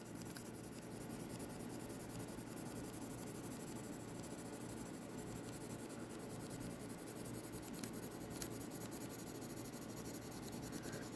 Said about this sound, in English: I'm still using my number 2 pencil.